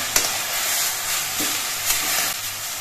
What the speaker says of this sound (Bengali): এবার এই নুন হলুদ দিয়ে শাকগুলো নেড়ে চেড়ে মিশিয়ে নিতে হবে